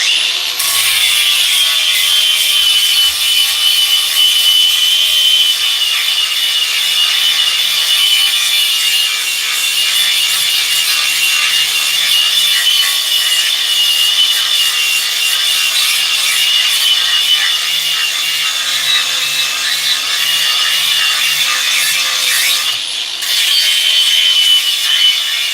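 Flapper disc on a grinder sanding a hand-carved wooden axe handle, a loud continuous abrasive rasping whine with small shifts in pressure, running steadily with no talk.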